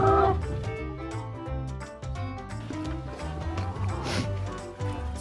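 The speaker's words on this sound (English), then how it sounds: "These chickens were hungry." A flock of hungry hens on a farm cluck and murmur continuously at close range, overlapping calls forming a busy, steady din with a brief louder squawk near the end.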